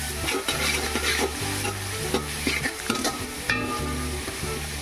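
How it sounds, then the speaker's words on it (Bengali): Onions with garlic paste fry lightly in a pan for mutton tehari, hissing steadily while a spoon stirs and scrapes in repeated strokes, close and with no talking. "এখানে কিন্তু পেঁয়াজটা বেশি লাল করে ভাজা যাবে না, দেখুন হালকা করে ভেজে নিচ্ছি আমি এখানে।"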